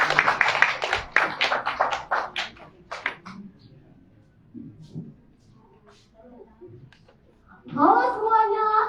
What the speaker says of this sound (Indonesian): Kita sambut kedatangan peserta dengan nomor 25 dengan tepuk tangan yang meriah.